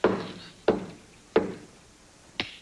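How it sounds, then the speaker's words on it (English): Four sharp knocks on a door, evenly spaced about two-thirds of a second apart and heard alone at moderate volume, sounding from a Christmas episode of a TV sitcom. "Answer the door, Tiny Tim."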